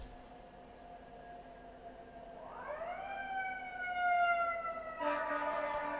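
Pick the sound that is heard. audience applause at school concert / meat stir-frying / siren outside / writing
siren outside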